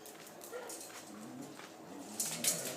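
Puppies and dogs whimper and yip softly in a group, faint and somewhat distant, with a few thin high cries rising near the end.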